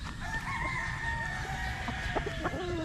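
Banded stag gamefowl rooster clucking and calling at close range, several short tonal calls over a steady low background of other fowl on a farm.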